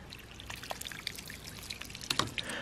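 Water pours and trickles through a double waste valve ram pump fed from a bucket, a steady splashing flow with scattered drips and small gurgles, close and continuous without any talk.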